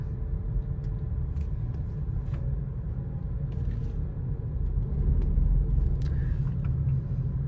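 Steady low road rumble of a Ford Focus 2 driving, a continuous engine and tire drone with no talking.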